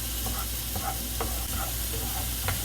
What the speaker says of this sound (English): these are going to saute for about 5 or 6 minutes